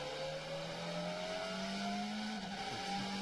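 WTCC touring race car lapping the Macau street circuit in 2014 practice, engine note holding steady and rising through the gears, loud and continuous with no talk.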